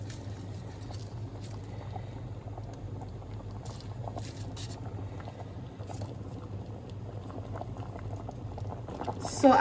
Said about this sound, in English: now we just have to close our pot so that everything can simmer